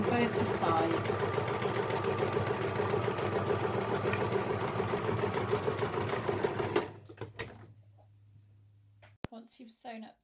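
A sewing machine stitches the side seams of a shopper bag in a steady, close whirring run for about seven seconds before stopping, with a voice speaking over it and briefly afterward.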